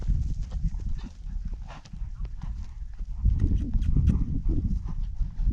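Horse hooves clip-clop in a slow, uneven shuffle close by, steps landing softly as the animal moves sideways, with low rumbling in the background.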